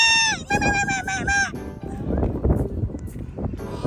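A goat bleats in several wavering, nasal cries at close range, then people talk over a busy farmyard background.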